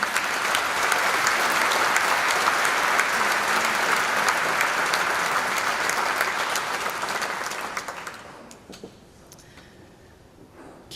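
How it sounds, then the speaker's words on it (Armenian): Sustained loud applause from a crowd, steady for several seconds before tapering off and fading to quiet near the end. "մեկ անգամ եւս ծափահարենք իրենց համար"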